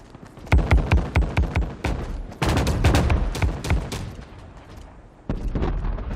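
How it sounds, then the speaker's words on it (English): A rapid burst of distant gunfire in Fortnite, sharp cracks with echoing reverb, followed by a rumbling wash and scattered later shots, no voices. "The gunshots in the distance kind of have a familiar"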